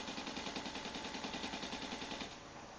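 An assault rifle fires fully automatic in Battlefield 3, a rapid, evenly spaced burst of loud shots lasting about two seconds before cutting off, with no talking.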